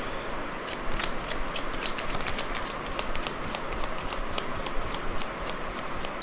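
Tarot cards riffled and shuffled by hand, a steady run of crisp papery flicks and slaps close up, with no voices.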